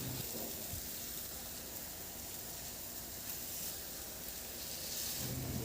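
Butchi, sesame rice balls with mung bean filling, fry in a small amount of cooking oil, making a faint, even crackling sizzle that runs steadily throughout.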